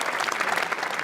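Crowd applauding on the Cannes Film Festival red carpet, a dense, continuous burst of clapping, loud and close, with no pause.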